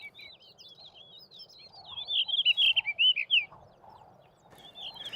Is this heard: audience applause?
no